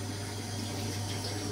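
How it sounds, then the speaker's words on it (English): Warm water running from a tap into a sink makes a steady, dense hiss with a low hum underneath, close and continuous throughout. "some warm water into the sink"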